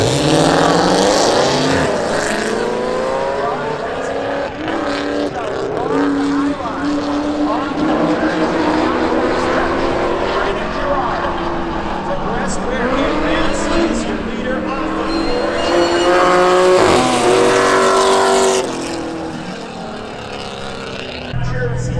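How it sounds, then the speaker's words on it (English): Drag racing cars, a Corvette and a 1986 Monte Carlo, launch and roar down the backstretch at Seekonk Speedway during spectator drags. Loud engines rise in pitch and overlap the whole time, with a track announcer talking over them. "Smith in the Corvette and 86 Monte Carlo for John Fielding give the advantage to Smith down the backstretch"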